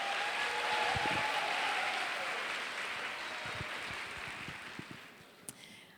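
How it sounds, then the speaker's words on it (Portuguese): Quiet applause from a congress audience welcoming a round-table guest, a steady wash of clapping that slowly fades, with a few isolated louder knocks and claps near the end. "uma salva de palmas para ela."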